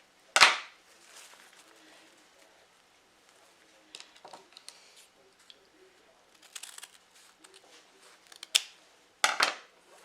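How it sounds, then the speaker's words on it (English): Scissor blades snip several times through ribbon, some crisp cuts separated by pauses, with faint rustling of the ribbon in between. "cutting it right to the middle."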